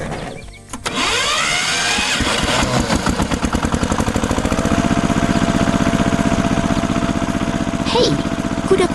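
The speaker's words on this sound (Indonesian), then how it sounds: "Traktor merah sedang menarik trailer yang serupa." A red tractor engine in an animated farm scene pulling a trailer, a steady mid-pitched chugging drone that starts after a brief pause and continues loud and close, with a voice speaking over it.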